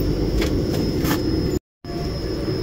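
Loud, continuous rumble of a slow-moving train rolling along the rails, with a few rhythmic clanks and a brief dropout in the middle.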